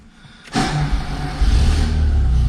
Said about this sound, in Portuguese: Bom, vamos ligar aqui então o carro. Vamos ver como é que é esse ronquinho.